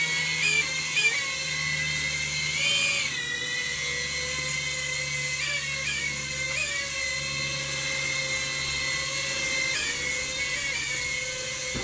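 A Rage RC Triad FPV 3-in-1 pocket drone hovers at low rate, its tiny propellers giving a steady high-pitched whine that rises and falls slightly as the throttle shifts, close and continuous.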